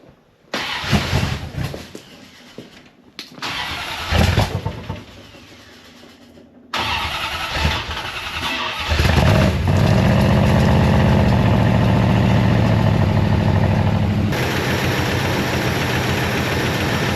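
An old 383 Chrysler Newport, abandoned for four decades, cranks and catches, then settles into a loud, steady rumbling idle up close with no talking over it.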